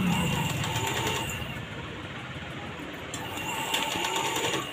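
An electric sewing machine stitches a sleeve onto a ready-made frock. It gives a steady, close mechanical whir in two runs, with a short slower stretch between them.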